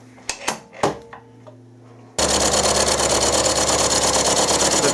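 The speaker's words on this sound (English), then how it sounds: "I'm going to give that face mill a go, see what sort of finish I can get with that" A carbide face mill bites into a turbocharger housing with a sudden loud, dense, steady cutting roar after a few sharp metallic knocks and taps, continuing unbroken to the end.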